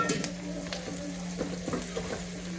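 Onion and capsicum sizzling in a pan on high flame while chilli chicken is cooked, a steady close frying hiss broken by a few soft stirring clicks, with no voices.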